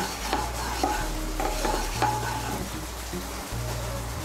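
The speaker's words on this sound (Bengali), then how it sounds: "ঘিটা গলে গেলে এর মধ্যে আমি কাজু বাদাম আর কিশমিশগুলো ভেজে নেব।" Cashews and raisins frying in melted ghee, a steady low sizzle with repeated light scrapes and taps of a spoon in the pan, close and moderately loud; no speech.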